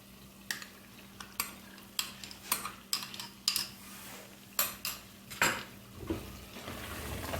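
Curd is stirred into mutton korma masala in a pot, heard as a steady series of spoon scrapes and knocks against the metal at roughly regular intervals, with a faint sizzle underneath.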